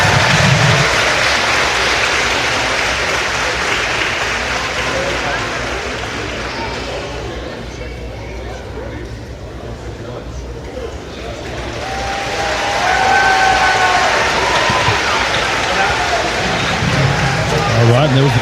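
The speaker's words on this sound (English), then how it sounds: "Hoping you heard their cheer out there." High school cheerleaders perform a cheer at a school event while a crowd cheers and applauds. A loud, dense roar of voices dips in the middle before swelling again.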